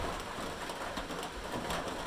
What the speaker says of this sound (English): you guys don't have to listen to the rain beating off this metal roof